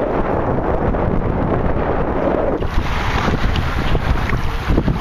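Wind buffets a boat on choppy water, a steady loud roar of microphone wind and slapping waves that continues throughout with no talking.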